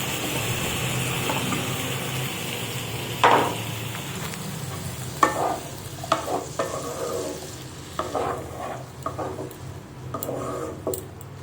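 Potatoes stir and fry in a pan, with a soft continuous sizzle under repeated scraping and clattering strokes of a utensil, close and fairly quiet.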